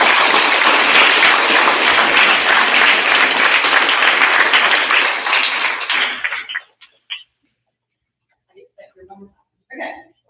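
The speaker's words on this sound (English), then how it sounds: "let's give these students a round of applause for the ladies." Loud, sustained applause from a large crowd at a 6th grade awards ceremony, fading out after about six seconds, followed by a few faint scattered sounds.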